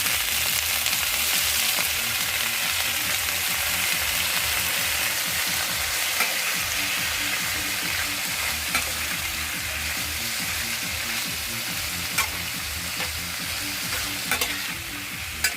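Bitter gourd (ampalaya) with egg fries in a pan with a steady, dense sizzle and continuous stirring scrapes throughout, close and fairly loud.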